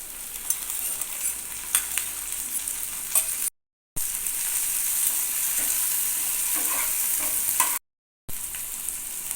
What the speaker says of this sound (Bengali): পেঁয়াজ কুচির সঙ্গে কাঁচা লঙ্কা কুচিটাও দিয়ে দিয়েছি পেঁয়াজটাকে জাস্ট হালকা একটুখানি ভেজে নিতে হবে